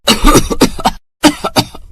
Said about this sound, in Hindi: जिससे अम्मा को खांसी शुरू हो गई।